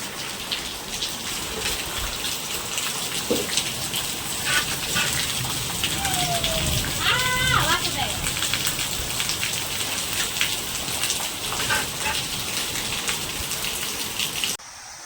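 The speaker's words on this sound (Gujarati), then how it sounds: "મસ્ત મજાનો વરસાદ પડી રહ્યો છે" Steady, dense rain pours down, a continuous hiss of drops across the whole stretch, with a brief faint animal call partway through.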